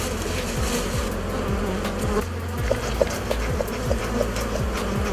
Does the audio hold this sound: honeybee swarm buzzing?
yes